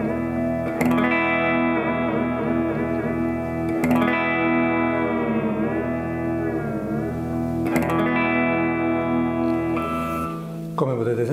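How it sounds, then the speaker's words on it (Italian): A Kramer Baretta Special electric guitar with an inexpensive tremolo sounds loud, effected chords that ring out repeatedly, each wavering and dipping in pitch as the tremolo bar is pushed. A final short strum closes the passage. "Sentiamo come tiene l'accordatura col tremolo."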